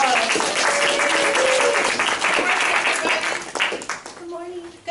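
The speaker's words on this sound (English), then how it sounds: "So, round of applause." Audience applause at a Sunday spirit connections gathering: sustained broadband clapping from a large crowd for several seconds, with a voice talking over it before it thins out near the end.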